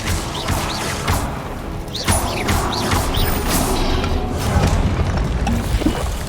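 A spell being cast in the video game Hogwarts Legacy, a series of sharp whooshing zaps and impact cracks over a busy, steady bed of combat noise, with several bright bursts spread across the stretch.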